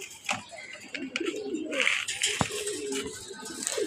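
Budapest racer pigeons coo softly in short, irregular calls mixed with faint chirps, set against a quiet background with light rustling.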